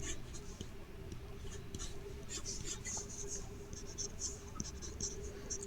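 A pen stylus scratching and tapping across a drawing tablet, soft, close strokes and ticks in an irregular rhythm over a steady background hum.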